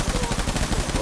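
Rapid automatic gunfire from a video game, a dense, loud, continuous burst of shots with no pause.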